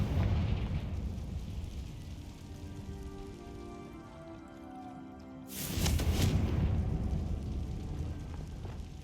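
A Confringo fire spell bursts in the Hogwarts Legacy video game, a sudden broad blast midway through a steady rain-like hiss of game ambience, with no talking.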